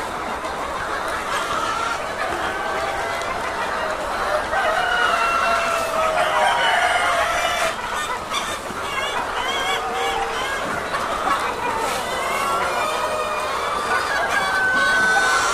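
A crowded flock of Sonali chickens busy at feed on a poultry farm, clucking and cackling continuously in overlapping calls, close and loud with a dense murmur behind.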